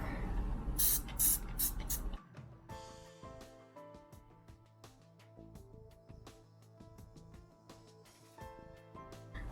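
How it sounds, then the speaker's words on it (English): Bursts of a water spray bottle misting damp hair, loud and close at the start for about two seconds, followed by quieter handling and background sounds. "It actually doesn't spray water, it mystifies it."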